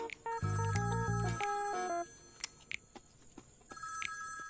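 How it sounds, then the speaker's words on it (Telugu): An old-style telephone bell rings loudly in a short burst of repeated tones, then stops, leaving faint background noise and a few soft clicks before a quieter tone returns at the end. "ఫోన్ మోగుతుంది, తీసుకురాపో."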